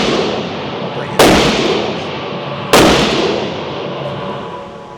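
Two sharp, loud rifle shots of AAC Sabre Black Tip ammunition crack about a second and a half apart outdoors, each followed by a decaying echo.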